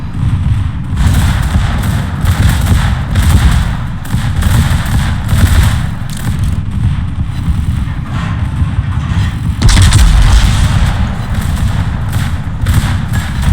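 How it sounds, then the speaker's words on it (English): Secondary guns on a warship fire in a naval combat video game, giving heavy, dense booming thuds that repeat every few seconds over a constant rumbling engine and battle backdrop, loud and close, with no speech heard. "I just love seeing those little secondaries go pew pew every few seconds."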